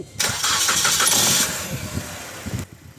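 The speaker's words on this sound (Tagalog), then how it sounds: "pa-start ko na itong makina" A Suzuki Ertiga engine with an overheating fault cranks over and catches, then settles into a steady rumbling idle before cutting off near the end.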